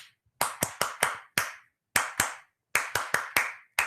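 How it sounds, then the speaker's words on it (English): A pair of hands claps a syncopated jazz rhythm in a quiet room, sharp close claps in two short bursts of uneven groupings with brief silent gaps between them. "we're going to clap the rhythm and just learn that rhythm so it goes around 4 times"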